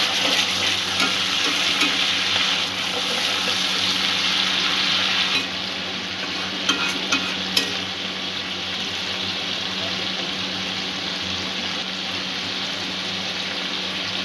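Masala fries with two tablespoons of yogurt stirred through it while making a chhena-stuffed pointed gourd curry. A dense, loud, steady sizzle runs throughout under a low hum, with a few brief clinks from stirring partway through.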